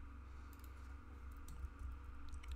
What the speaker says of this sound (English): So under this scripts tag in the package.json, we're going to type in dev here.